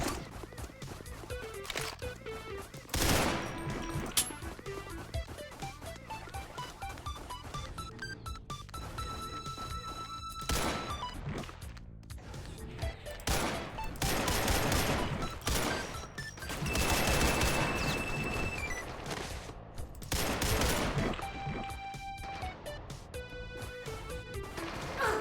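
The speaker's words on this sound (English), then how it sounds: "Something's shooting at me." Video game gunfire aimed at the player, repeated bursts and single shots popping at irregular intervals over busy game music and effects, with loud impacts standing out throughout.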